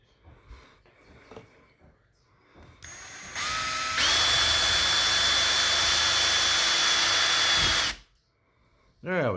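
Power drill spinning up and grinding into a plastic stick blender housing, a close, loud high whine held for about four seconds after some handling noise, then stopping abruptly.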